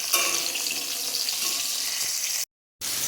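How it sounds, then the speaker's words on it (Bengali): Raw green bananas frying in oil in a pan, a steady close hiss and sizzle that cuts out abruptly near the end and then resumes, with no voices. "এবার কাঁচকলাগুলো দিয়ে দিয়েছি, এটাকেও ভেজে নেব।"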